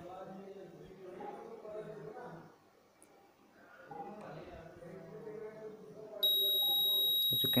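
Someone talks, then a continuous high-pitched electronic beep from a Delmhorst P-2000 moisture meter starts abruptly near the end and holds steady.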